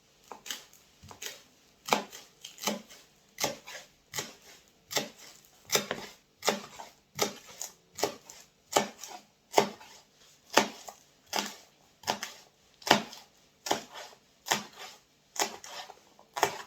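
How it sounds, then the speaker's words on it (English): A knife slices spring onion on a cutting board, giving a steady series of crisp, evenly spaced chops, close and fairly loud, with no talking. "So I need 15 ml of spring onion, so a tablespoon. So I'm just going to slice it."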